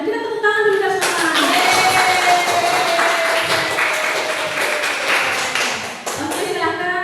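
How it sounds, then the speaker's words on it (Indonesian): An audience at a school event at a junior high school claps together, dense hand claps filling the room throughout while a voice carries on over the applause. "Kita tepuk tangan dulu semua."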